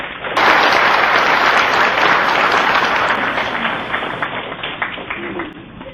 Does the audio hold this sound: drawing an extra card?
no